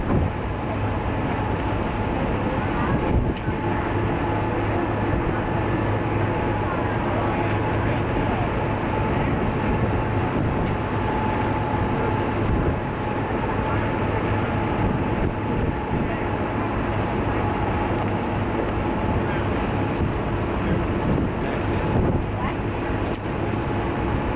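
A steady roar of wind and engine hum on a moving ferry crossing from Halifax to Dartmouth, constant and broad with a low throb underneath, no clear speech.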